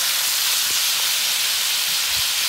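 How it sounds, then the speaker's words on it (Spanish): Bacon frying in a pan on a stovetop gives a loud, continuous sizzling hiss that stays steady throughout, with a few faint low thumps underneath. "Vamos a esperar a que el tocino suelte su grasa,"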